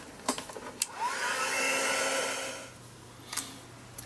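A heat tool dries paint on an art journal page, a steady rising-and-falling blowing whir lasting a couple of seconds between a few small clicks and taps, close and moderately loud.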